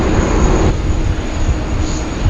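A Singapore Airlines Airbus A380 arriving at Sydney Airport, heard as a loud, continuous broadband jet roar that holds steady throughout, with a faint high whine riding on top.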